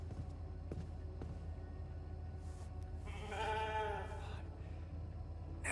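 A sheep in The Alters video game gives one drawn-out, wavering bleat near the middle, over a low steady hum with a few soft clicks before it.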